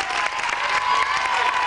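A local audience in Westhouse claps in dense, steady applause after a record is announced at a community event, with a faint crowd murmur beneath.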